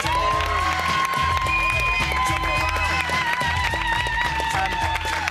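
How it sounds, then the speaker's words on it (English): A studio audience at a live X Factor 2006 show cheers and applauds the finalists, a loud, continuous crowd roar with clapping blended into music that plays throughout. "I think we should all give them a huge cheer"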